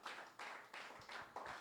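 A church congregation claps in praise for the Lord during a sermon: four or five faint, evenly spaced bursts of many hands clapping together, heard at a distance.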